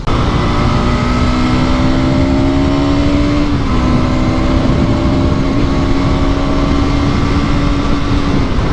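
A Bajaj Pulsar NS 200 motorcycle ridden at speed through a city, its engine whine holding a steady high pitch with a brief dip and recovery, loud and close over rushing wind noise.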